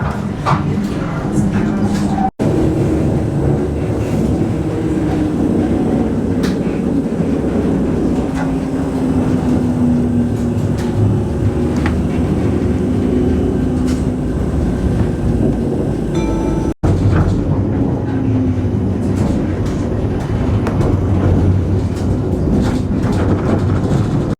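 Rumbling ride inside an Amsterdam tram, a steady low rolling drone with rattles and occasional clunks throughout, loud and close, with people talking over it at times.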